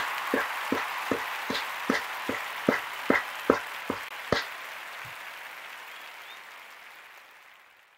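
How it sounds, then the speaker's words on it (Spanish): A short burst of applause from a small group at a live stream in Cádiz, about a dozen distinct claps at first, then thinning out and fading into room noise. "Aplauso, por supuesto, para todos los suscriptores"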